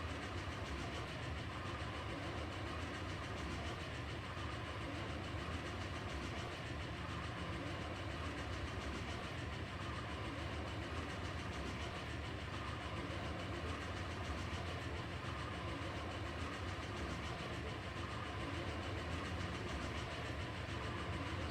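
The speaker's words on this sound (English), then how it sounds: "this is only a small train" Small coal train in the video game Captain of Industry, a steady, droning rumble of rolling rail cars and engine noise with faint clattering, even and unbroken from start to end.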